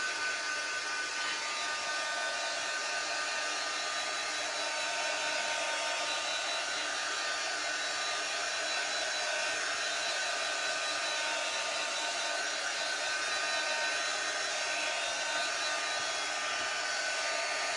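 A hair dryer runs steadily and close for the whole stretch, drying a small craft project made from dollar-store supplies, with a constant airy whoosh and no talk.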